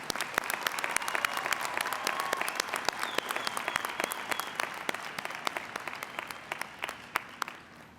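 Commencement audience claps for honors graduates and candidates, a sustained spread of many hands with distinct individual claps standing out, moderately loud in a large hall, slowly thinning toward the end.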